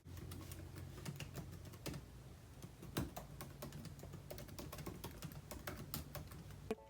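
Typing on a 2020 MacBook Air keyboard: quick, soft, irregular key clicks in a steady run, faint and close, with no voices.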